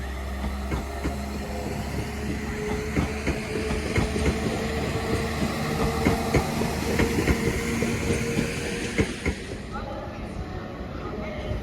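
A Transport for Wales Class 197 passenger unit passes through Crewe station: a steady rumble and rolling clatter of wheels over rail joints lasting about ten seconds, close and loud, with a faint voice underneath.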